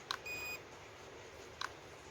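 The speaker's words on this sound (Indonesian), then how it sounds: "Tunggu bunyi beep lagi ya." Two short electronic beeps from an SJRC F11s 4K Pro drone after it is switched on, spaced about a second and a half apart over a quiet background.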